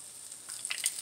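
Maruya banana fritters frying in hot oil, a soft, faint crackling sizzle with a few brighter pops toward the end, no voices over it.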